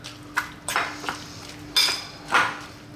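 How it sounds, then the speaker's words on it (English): Avocado tuna mayo salad being mixed in a bowl, a handful of irregular clinks and scrapes of utensil against the bowl, quiet and close. "Gonna give that a mix"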